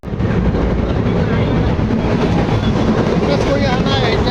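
A crowded Rangiya Express passenger train runs at speed, a loud continuous rumble and clatter from inside the carriage, with voices faintly under the noise.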